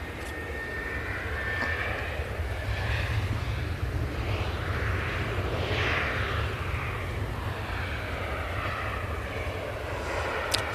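An Airbus A320neo jet at Manchester Airport roars loud and steady overhead, a broad continuous engine rumble with a faint sweeping whine that swells slightly in the middle and holds without pause.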